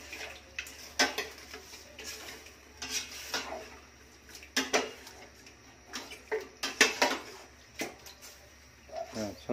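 Chicken adobo stirred in a pot, a utensil scraping and clinking against the metal in irregular taps and scrapes, fairly quiet and close.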